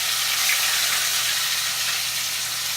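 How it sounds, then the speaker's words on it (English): Chicken pieces searing in a hot pot for a chicken and plantains dish, giving a loud, steady, broadband sizzle that stays even from start to finish without interruption. "So I'm gonna sear that off nice and easy"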